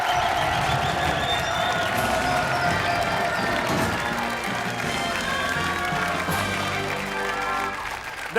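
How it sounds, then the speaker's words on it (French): A TV game-show studio audience applauds and cheers loudly and steadily throughout, a dense wash of clapping with a few voices and music-like tones mixed in, tapering slightly at the end. "je vous demande de l'applaudir très fort à l'extraordinaire James Bond de TF1"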